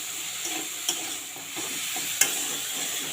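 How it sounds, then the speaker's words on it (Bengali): Cut potatoes frying in hot oil in a pan, a steady sizzle broken by two sharp scrapes of a spoon stirring, with no voices. "এর সাথে আলুটাকে আমি ভেজে নেব।"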